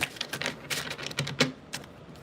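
A deck of tarot cards is shuffled by hand, giving a close, steady run of dry, crisp flicks and rustles with no voices.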